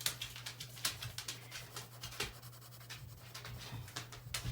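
A #2 pencil scratches and rubs across paper in quick, uneven strokes, quiet and close, with no talking.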